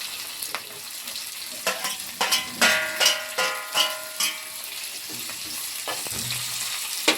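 Ingredients sautéing in hot oil in a pan while leftover rice is made into pulihora, a steady sizzle broken by several loud scraping stirs in quick succession, no voices.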